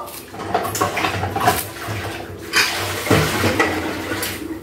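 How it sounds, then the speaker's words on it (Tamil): Cooked vegetables and meat for a Tamil post-delivery curry tip into a cooking pot with a clattery, wet tumble. Pot and utensil knocks come and go in bursts over several seconds. "இந்த சட்டியில் இப்போ எல்லாத்தையும் கொட்டிக்கலாம்."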